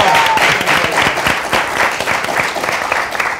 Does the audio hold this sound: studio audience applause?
yes